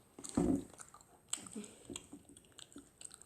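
Someone chews food close to the microphone during a Korean mukbang, with a moist bite near the start and then soft, irregular squishy chewing sounds that stay faint.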